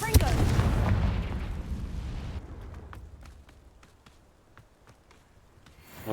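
Confringo blasting spell in the video game Hogwarts Legacy, a loud booming explosion that rolls and decays over about two seconds, followed by scattered faint pops and crackles that fade out.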